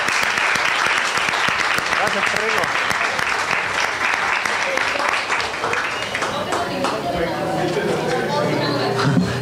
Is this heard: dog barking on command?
no